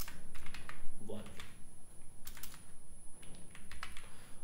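Typing on a computer keyboard while writing HTML code, with quick clusters of close, clicky keystrokes coming in uneven bursts and a short pause, a faint steady tone in the background and a voice murmuring briefly.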